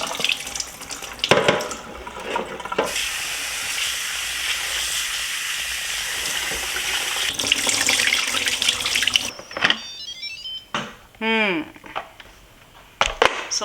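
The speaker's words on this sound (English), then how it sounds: "I'll wash the rice and rinse it until the water runs clear." Running tap water pours steadily into a pot as rice is washed and rinsed, a loud continuous hiss, followed by sloshing, swirling water and clattering as the grains are stirred and drained.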